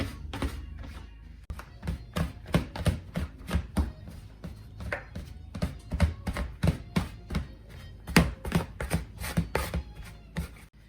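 Butter is worked into flour for drop biscuits, giving a long run of quick, uneven thuds and knocks against the bowl. The sound is close and irregular, with no one speaking.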